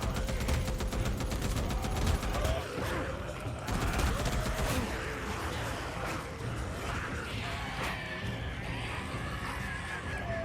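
Sustained gunfire in the zombie survival video game Days Gone, dense rapid bursts of shots with booms and game effects filling the whole stretch at steady loudness.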